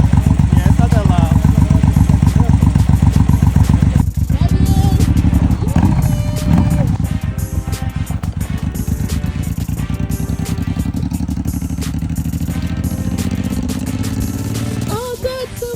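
A motorcycle engine drones loud and steady up close through a ride, its throttle shifting slightly as it goes. Wind rushes over it and people talk over the engine noise.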